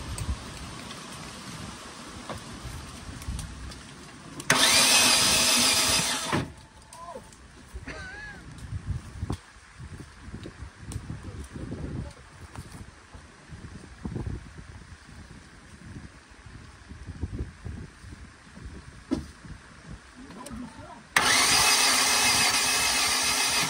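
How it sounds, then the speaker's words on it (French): A small motor whirs loudly in two short bursts, with quieter rumbling and handling noises in between. "Le moteur quand ça fait ce bruit ou pas? Ouais, ça tourne."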